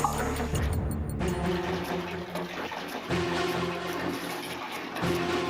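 Water runs steadily from a tap or flush, a continuous rushing wash that stays fairly loud and close throughout, with no talk over it.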